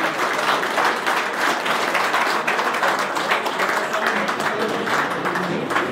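Steady, dense applause from an audience at an awards ceremony in La Mora, Jalisco, sustained evenly for the whole stretch with no voices rising above it.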